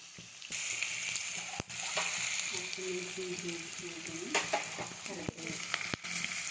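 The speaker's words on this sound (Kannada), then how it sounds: "1 ಕಪ್ ಈರುಳ್ಳಿ, ಚೆನ್ನಾಗಿ ಫ್ರೈ ಮಾಡ್ತೀನಿ." A cup of onions fries in hot oil in a pan, giving a continuous close sizzle with occasional sharp clicks of a spoon stirring. A brief faint tone sounds midway.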